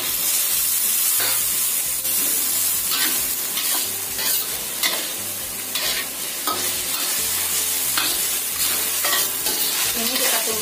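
Onion, ginger and garlic sauté in a pan, giving a steady loud sizzle with repeated scraping stirs throughout, and no voices.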